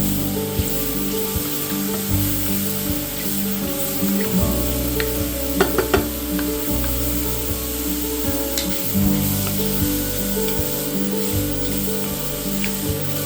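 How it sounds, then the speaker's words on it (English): Mushrooms fry in a pan with a steady close sizzle, and a few clicks and scrapes of stirring land mid-way through the continuous hiss. "we're going to cook these mushrooms down until they're releasing a lot of their liquid and have shrunk in size"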